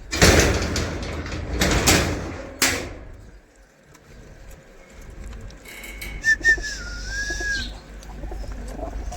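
Feather-footed pigeons shift and coo softly inside their coop amid a few sharp knocks and door-like clatter, followed by a brief high whistling call near the end.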